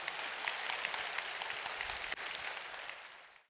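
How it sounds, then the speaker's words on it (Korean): A church congregation applauds, dense even clapping from many hands held steady for several seconds before cutting off abruptly at the end. "주님께 영예의 박수 드리겠습니다"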